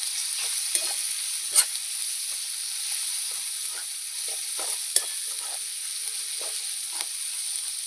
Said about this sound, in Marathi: लसूण अद्रकची पेस्ट टाकायची. ती पण मस्त अशी तेलामध्ये एकजीपर्यंत भाजून घ्यायची.